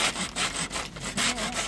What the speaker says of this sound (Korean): 두 개를 같이 이렇게 톱질을 해